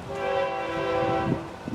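A Florida East Coast train horn sounds a sustained chord, fairly distant, then fades as rumbling and clatter of the passing train take over.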